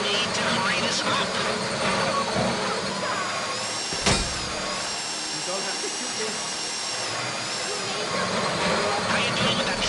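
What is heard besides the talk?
drill running during a heist in a video game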